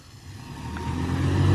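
A Toyota Tacoma pickup truck accelerating hard off the line in a drag race against an RC car, the engine note rising steadily and growing louder over a second and a half, with no talking.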